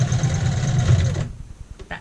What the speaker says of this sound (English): So we're going to go in a little bit farther with our back stitches.